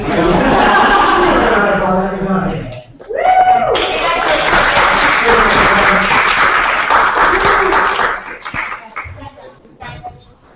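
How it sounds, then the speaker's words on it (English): A room of people claps after a unanimous approval vote at a student government meeting. There is a brief burst, a short pause, then sustained applause for several seconds that tapers off, with voices and light laughter mixed in. "We'll give a round of applause."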